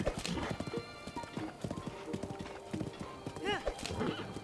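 Steady clip-clop of horse hooves with a brief whinny partway through, alongside game music and talk, from The Legend of Zelda: Breath of the Wild on Nintendo Switch.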